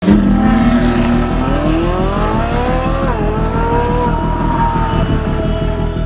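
A supercar driven hard around a closed circuit track, its engine roaring loud and close with the pitch climbing as it accelerates through the gears and the tires squealing.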